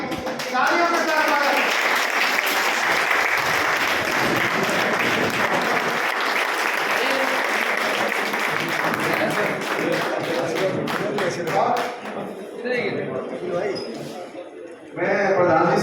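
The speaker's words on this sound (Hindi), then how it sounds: "सभी तालियों के साथ" Sustained audience applause at a governing council meeting of a veterans' association federation in Jaipur, a long, dense crowd clapping that thins and dips near the end before swelling again briefly.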